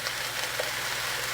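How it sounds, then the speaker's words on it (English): Yakisoba noodles for a chicken stir fry hiss in a very full hot pan, a loud, even sizzle close up with no pauses and no talking. "I'm going to add my noodles at this time, my Yakisoba noodles"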